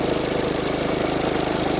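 Car engine idling during a battery and alternator voltage check, an even, rapid low thrum with a regular firing pulse, close and steady, with no one speaking.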